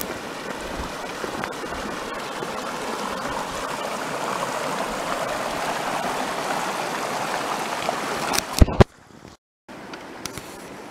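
A mountain creek near Emigrant Lake rushes in a steady, close, broadband flow for about eight seconds before cutting off abruptly, with a few faint knocks near the end.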